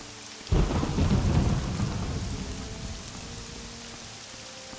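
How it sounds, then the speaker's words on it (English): Heavy rain pours in The Elder Scrolls III: Morrowind as a deep thunder rumble rolls in, a loud crack at first that fades into a long, dull roar beneath steady rainfall. "Thunder."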